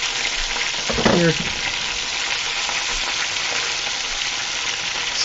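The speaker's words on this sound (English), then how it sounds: "Sizzle does intensify. I'm a little surprised with the sizzling." Pub food sizzling in a frying pan, a steady loud crackling hiss throughout with a brief stirring or shifting burst near the start.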